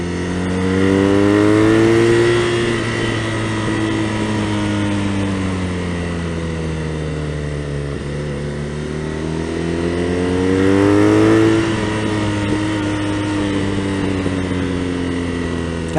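A BMW R nineT Racer with its stock exhaust drones steadily while riding, engine pitch swelling and falling across two gentle rises in revs, loud and continuous.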